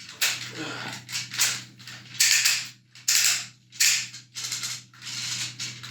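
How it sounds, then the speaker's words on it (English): A rapid series of mechanical clicks in bursts from a Transformers Cybertron Metroplex toy's ratcheted waist and hip joints being moved, close and fairly loud, with short pauses between. "you've got a ratcheted waist swivel, universal ratcheted hips"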